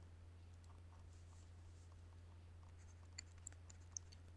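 A pen scratches points onto a writing surface in quick, faint strokes, with a few sharper taps toward the end over a steady low electrical hum.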